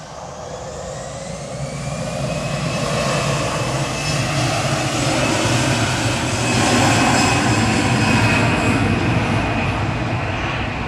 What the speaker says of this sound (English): Indigo arriving from Mumbai, LN FNC with flight 31. 787-9 Dreamliner.